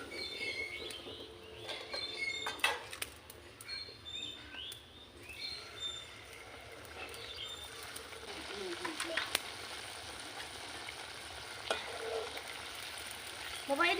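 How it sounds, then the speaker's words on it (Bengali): Sweet potato frying in a pan in a village kitchen, a soft, steady sizzle with occasional clinks of stirring, heard under distant voices and ambient noise. "লাল লাল করে ভাজা হয়ে গেছে, তুলে নেব"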